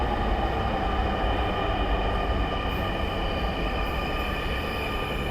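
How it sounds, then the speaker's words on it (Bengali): A Dhaka metro rail train pulls into an elevated station, a loud, sustained rumble and rolling roar close by, with faint wheel squeal and no voices. "এই যে হচ্ছে চলে আসছে মেট্রো।"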